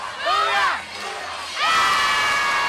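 Young fans in a youth baseball cheering section at the Little League World Series shout and cheer together in a loud crowd roar, with two high-pitched surges of yelling split by a brief lull.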